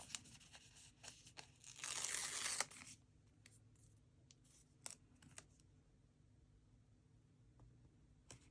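Decorative tape for a paper planner torn off the roll in one loud, close rip lasting about a second, followed by faint crinkles and small handling clicks in a quiet room.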